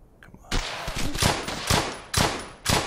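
Rapid rifle fire from M1 rifles in the World War II shooter Brothers in Arms: Hell's Highway, a string of sharp, loud cracks spaced irregularly at close range with no talk over them.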